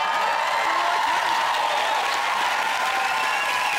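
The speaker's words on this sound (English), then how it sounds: "It's no good cheering." Studio audience applause and cheering roll on steadily as a dense, even wash of crowd noise, close and continuous from start to end.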